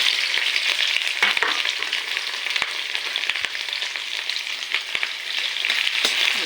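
Onions and dried red chilies with bay leaves sizzle steadily in hot oil, a close, continuous crackling fry with scattered sharper pops and no talking.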